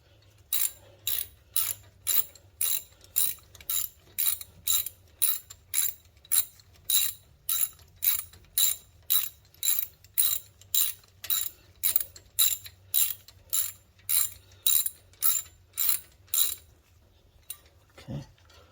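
Rapid ratchet clicks as a bolt is tightened on a bicycle front brake after thread locker is applied, a steady run of about two dozen evenly spaced sharp clicking strokes, close and clear, with a brief final click after a pause.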